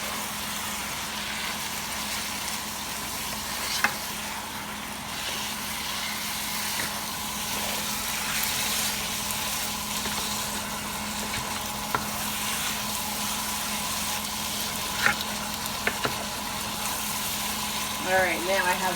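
Shrimp and sauce for shrimp biryani frying in a pan, a steady close sizzle that continues throughout with occasional small clinks of stirring.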